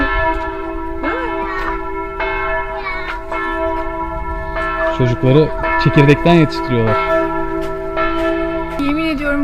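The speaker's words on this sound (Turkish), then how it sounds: "15 dakikada bir çan çalıyor." Church bells ring out loudly with sustained overlapping tones, while people talk nearby over the ringing.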